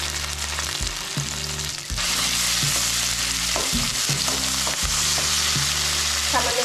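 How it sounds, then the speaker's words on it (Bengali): Poppy seed paste, ginger and green chilli hit hot oil in a wok with bay leaves, dried chillies and nigella seeds, giving a loud continuous sizzle with stirring scrapes and a sharp surge in frying noise partway through. "বেটে নেওয়া পোস্ত, আদা আর কাঁচা লঙ্কাটা কড়াইয়ে দিয়ে দেব"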